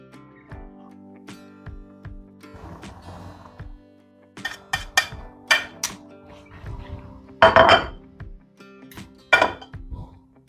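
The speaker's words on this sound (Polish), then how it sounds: "podkręcę gaz na troszeczkę większy i włożę do garnka królika" Clattering and clinking of metal against a pot, with scattered knocks and a few louder clanks as pieces of rabbit meat are dropped in, close by.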